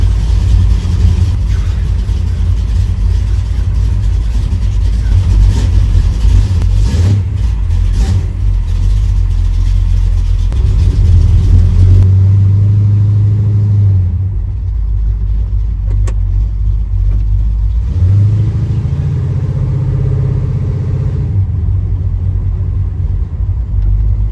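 A 1971 Oldsmobile Cutlass engine with a new motor rumbles steadily and loudly throughout, with a couple of short swells in revs before settling back.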